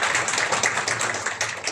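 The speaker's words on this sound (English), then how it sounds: "Mr. Sampath Kumar, can we please have a round of applause?" Audience applause at a public policy panel at ISB, a dense, fairly faint patter of many hands clapping steadily with no talk over it.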